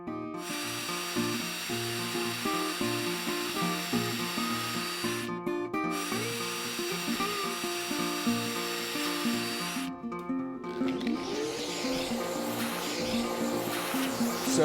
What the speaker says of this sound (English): So we're going to move up front on the bench here and drill a couple holes.